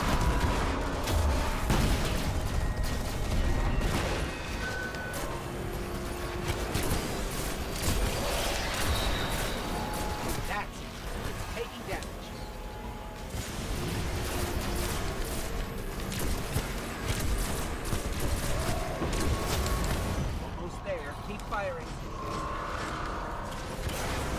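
Rocket fire and explosions in the Destiny video game during a fight with a Splicer walker, a dense barrage of loud booms and gunfire running continuously over a busy battle soundscape.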